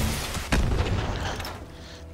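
Gunshot in the video game Fallout 76, a loud booming blast with a rough rumbling tail, heard alone without talk.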